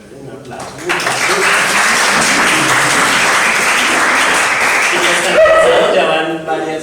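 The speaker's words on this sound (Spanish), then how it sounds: "Un aplauso." Attendees of a medicinal cannabis production course applaud loudly for about five seconds. The clapping starts abruptly and stops sharply, and a voice follows near the end.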